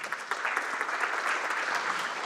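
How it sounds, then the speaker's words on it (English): Audience applause following a presentation at an Industry 4.0 innovation conference session, a steady, dense patter of clapping sustained throughout at moderate level with no talking. "And again, a round of applause."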